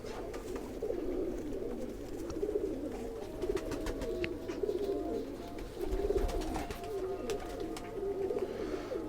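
Pigeons give soft, repeated low coos in a steady rhythm, fairly close, with faint background noise and no talking.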